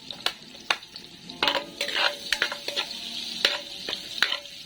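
Garlic sautés in melted butter as a utensil stirs it, producing repeated sharp taps and scrapes over a gentle bubbling sizzle, close by and with no voices.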